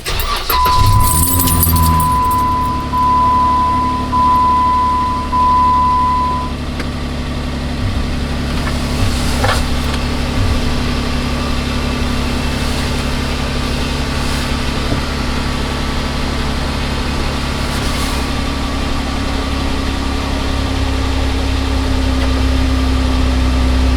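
A Jeep Wrangler JKU cold-starting, with a brief key jangle and the engine cranking and catching loudly, then a steady low idle while a thin electronic tone from the dash sounds for the first several seconds and no one speaks.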